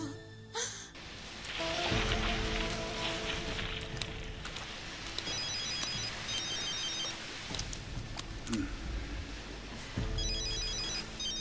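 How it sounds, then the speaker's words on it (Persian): A telephone rings repeatedly in a domestic drama scene, its electronic trill recurring in bursts over a steady background hiss that may be rain, with no talk during the rings. "باز تلفن دارد."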